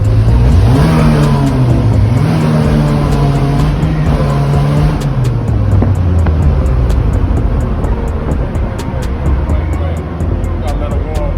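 Slingshot three-wheelers warming up, engines idling loud and close with a rising and falling rev early on, then a steady rumbling idle under voices with faint rhythmic clicking.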